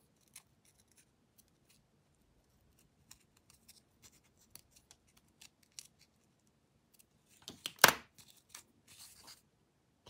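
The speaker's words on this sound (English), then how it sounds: "I'm just going to trim these little jump stitches" Scissors trim small embroidery jump stitches on an embroidered luggage tag, a quiet string of faint snips and light scratches ending in one louder, close crisp cut, with no talking.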